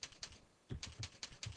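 Computer keyboard keys tapped in short bursts while formatting a document in a word processor, a few quiet clicks followed by a quick run of key presses, close and fairly faint, with no talking.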